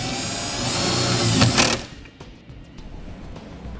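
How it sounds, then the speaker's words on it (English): A power drill drives a self-tapping screw into a 2014 Toyota Prius c to fix a trailer wiring ground wire, a close high whirring burst that stops abruptly, then quiet handling clicks. "Now we'll go ahead and attach our ground wire using the provided self-tapping screw."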